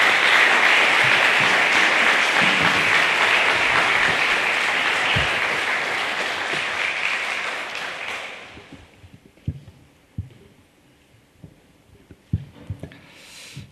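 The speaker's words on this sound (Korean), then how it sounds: "하나님 구하는 의미로 박수 한번 해도록 하겠습니다" A Korean church congregation in Rome claps together during a Sunday worship service, a loud, dense round of applause that holds for several seconds, then thins and fades into scattered thumps and quiet room noise.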